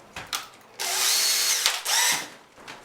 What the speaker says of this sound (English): Next thing we want to do is drill the holes for the adhesive injection.